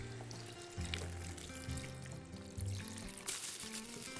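Water poured into a cooking pot of chicken and vegetable soup, a steady close trickle and splash lasting several seconds with faint kitchen noise behind it.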